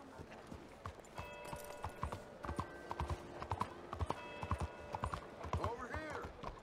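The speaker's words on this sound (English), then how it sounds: "I like the sound of my horse riding as we walk down the street" Rhythmic clip-clop of horse hooves at a walking pace down a street in Red Dead Redemption 2, with tonal in-game chimes and music and faint speech layered over it.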